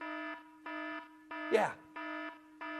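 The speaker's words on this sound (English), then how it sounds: "Can we ring that alarm there" An alarm bell rings on a live TV shopping channel selling gems and home goods, sounding in steady repeated bursts with short gaps, while a host speaks briefly over the middle.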